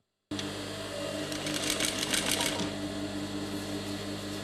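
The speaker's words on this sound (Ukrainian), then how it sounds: "наша знімальна група застала за швейною машинкою. Вона шиє чохол для м'яча." A sewing machine in a theatre workshop stitches a handmade cover for a ball used as a puppet-show prop. Its close, steady motor hum carries a busy rattle of needle strokes that swells briefly midway.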